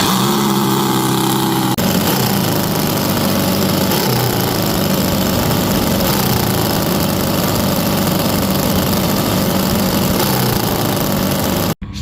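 A mini V8 engine on an RC boat runs steadily at a loud, buzzing idle, close by, for the whole stretch before cutting off abruptly at the very end, with no voices.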